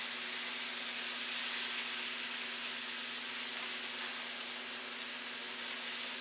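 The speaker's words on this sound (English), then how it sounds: "All we're doing is frying the meat right now." Flour-coated deer meat fries in a skillet, giving off a loud, steady hiss of sizzling fat that runs unbroken from start to finish, with no talking.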